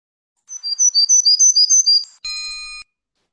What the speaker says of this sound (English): If you hear that sound, it's probably a warbler.